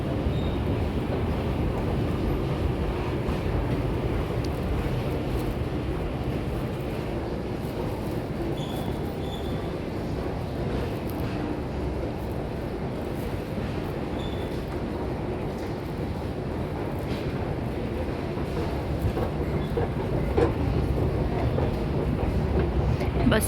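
A metro train in a Tehran station produces a continuous, loud low rumble with faint clatter and hiss, steady throughout with no clear pauses.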